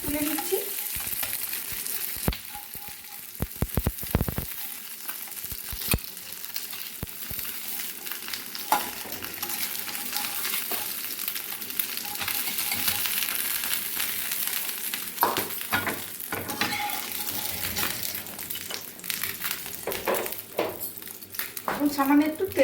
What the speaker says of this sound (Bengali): মাছগুলো ভেজে নিই, তারপরে দেখাবো।